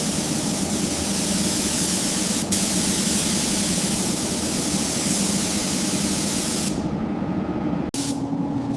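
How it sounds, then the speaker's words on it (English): Continuous loud hiss of a paint spray gun laying a second coat on a fire-damaged Ferrari F40 body during restoration, steady and close, with a short pause near the end. "let's lay down this second coat."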